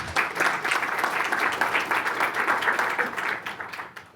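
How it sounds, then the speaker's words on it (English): An audience at a conference paper presentation gives a round of applause, a steady burst of dense clapping that tapers off at the end. "Let's give her a round of applause."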